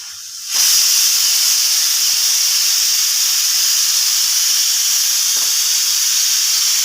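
Oil poured into a hot pan to heat for an omelette sets off a sudden loud, steady hiss that starts half a second in and holds unbroken, with no voices.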